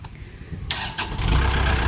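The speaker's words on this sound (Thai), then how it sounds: "เดี๋ยวไปฟังเสียงเครื่องกัน" A used 2020 Kubota L5018SP tractor engine cranks and catches, shifting from a low rumble into a louder, steady running roar, close by.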